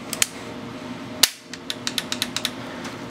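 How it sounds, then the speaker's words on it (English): The hammer of a 5.56 rifle falls on a trigger pull with one sharp metallic snap, preceded by a couple of small clicks and followed by a quick series of lighter mechanical ticks, all close up. "I don't know if anyone just heard that, but the hammer definitely went."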